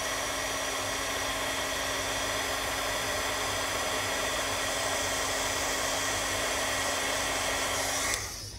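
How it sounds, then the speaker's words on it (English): A craft heat tool blows steadily to melt white embossing powder on a cupcake box tag, a loud, constant whooshing whine running close for about eight seconds before cutting off. "then we'll bring over our heat tool and hit it with the heat for about 10 or 15 seconds"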